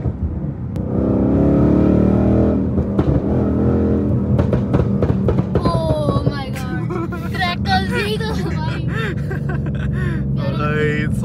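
A Mustang GT supercar accelerates hard in S+ sport mode, its engine rising in a loud, revving roar with climbing pitch. The roar grows busier and choppier toward the end, and voices can be heard in the cabin.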